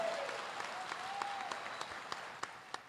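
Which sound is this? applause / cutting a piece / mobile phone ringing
applause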